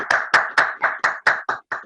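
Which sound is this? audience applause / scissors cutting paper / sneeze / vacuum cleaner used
audience applause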